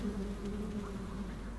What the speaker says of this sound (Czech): Tady jsou zase včely.